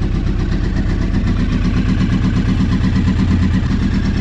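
A sport motorcycle engine with fuel leaking onto the exhaust manifolds runs steadily and loudly up close, a rough continuous mid-pitched drone with rapid firing pulses and no voices.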